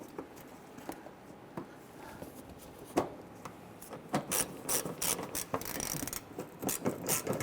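A screw is driven to fasten the plastic fender liner on a 1999-2004 Jeep Grand Cherokee, with quiet scraping and fiddling that builds into a series of close, rapid ratcheting clicks and rubbing bursts.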